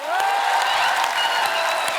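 Studio audience of The Kapil Sharma Show applauds and cheers to welcome Genelia and Riteish Deshmukh, a loud continuous burst of clapping with a sustained musical tone running through it.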